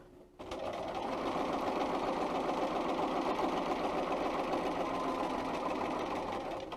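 A Bernina 335 sewing machine running steadily while stitching a seam on fabric, a close, even motor whir with rapid needle clatter that starts abruptly and holds for several seconds without pause.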